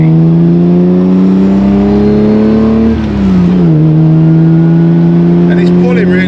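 An Aston Martin straight-six engine pulls hard under acceleration, a loud, close, steady drone that rises in pitch, dips briefly at a gear change, then climbs again.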